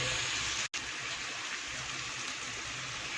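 Water pours steadily into a pan of mushroom curry, a continuous rushing splash that fills the scene apart from a brief cut near the start, with no talking.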